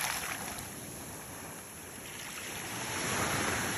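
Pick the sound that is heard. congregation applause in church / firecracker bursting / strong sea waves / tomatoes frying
strong sea waves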